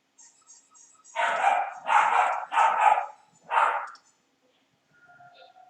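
A dog barks four times in quick, loud succession, fairly close, then falls quiet apart from a faint whimpering sound at the end.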